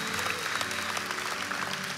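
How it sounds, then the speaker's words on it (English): Church congregation claps in welcome during a service, a steady, full round of applause filling the room with a faint low hum underneath. "church family, can we give them by a round of applause a welcome to the family of God?"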